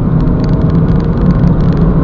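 Smooth, steady drone of a 2009 BMW 320i heard from inside while driving, a low, loud engine and road rumble with no gear-change breaks, even throughout.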